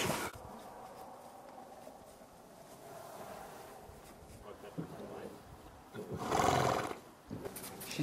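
Horses on a ranch whinny in a loud, bright burst near the end, after a stretch of wind and low outdoor rumble.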